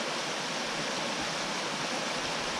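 Creek water rushing steadily in the rain, a dense, even wash of broadband noise with no breaks, close and moderately loud, with no voices.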